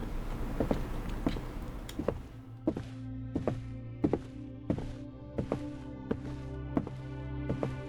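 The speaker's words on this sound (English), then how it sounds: "That was my footstep hitting one little spot on that thing." A series of dull thumps at fairly regular intervals, like footsteps landing on a hollow spot, with a low hum underneath.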